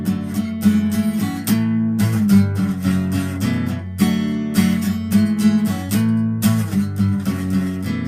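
Rhythmic acoustic guitar strumming with bass notes, steady and close, playing continuously without any voices.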